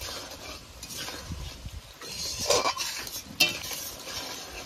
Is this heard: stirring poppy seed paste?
yes